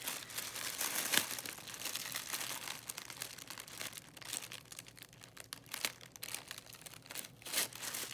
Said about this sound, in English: here is the tissue. I have to do this without ripping it.